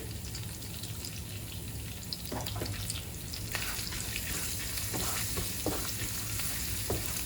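Cumin seeds and asafoetida (hing) sizzle in hot oil while tempering for pongal. The frying is a continuous, moderately loud crackle with a few sharp pops and stirring clicks, and nobody speaks.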